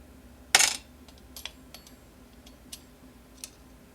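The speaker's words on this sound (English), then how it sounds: "Just taking off all the screws here, all the bolts." Screws and bolts come off an Apollo Phantom e-scooter wheel: one sharp metallic clatter followed by a scatter of light ticks and clinks, close and isolated, with no talking.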